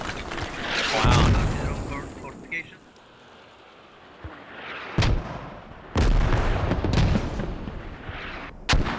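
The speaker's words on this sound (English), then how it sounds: "And they got mortars going too." Mortar and artillery fire in the military shooter game Squad, several heavy booms and sharp blasts landing at irregular intervals, some near and loud, others distant, with a player's voice talking between them.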